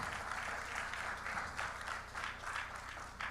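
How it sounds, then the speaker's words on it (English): An audience at a panel session on artificial intelligence and digital innovation applauds a speaker, a steady wash of many hands clapping, fairly soft and distant, with no talk over it. "Please a round of applause for David."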